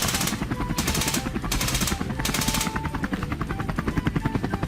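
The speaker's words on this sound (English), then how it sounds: "plane, helicopter, military helicopter," A military helicopter thuds overhead, its rapid rotor chopping loud and steady, with bursts of higher whine rising and falling.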